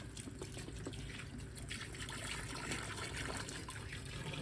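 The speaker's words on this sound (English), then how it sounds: "1 gallon of water going in." Steady stream of water pouring and splashing into a wine fermenter, continuous and close, with a faint trickling texture throughout.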